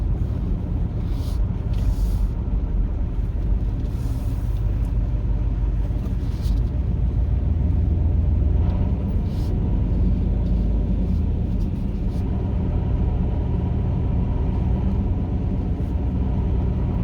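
A vehicle on a remote outback track near a beach turns around and reverses, its engine a steady low rumble with continuous road and wind noise throughout, no one speaking.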